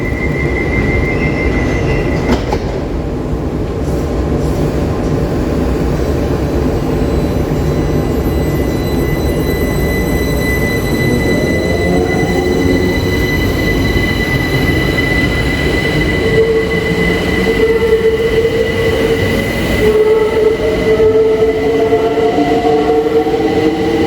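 British Rail Class 378 unit 378145 pulls into Wapping station, a tight, compact underground platform, with a loud continuous rumble of wheels and motors and rising squeals from the rails and brakes as it slows, filling the whole stretch.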